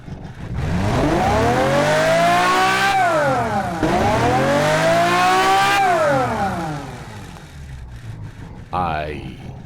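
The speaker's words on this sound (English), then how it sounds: "this is a gorgeous sounding engine" A car engine in the driving game BeamNG revs hard, its pitch climbing and falling in repeated sweeps, loud and close, before easing off, with a short rising whine near the end.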